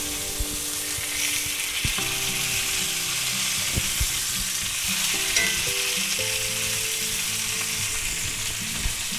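Breakfast pork chops frying in a pan, a steady loud sizzle and crackle with occasional scraping and clinks of a utensil as they are turned, continuous throughout without talk.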